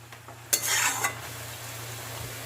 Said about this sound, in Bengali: আলু আর মটরশুঁটিটাকে ভালো করে মিশিয়ে দিয়ে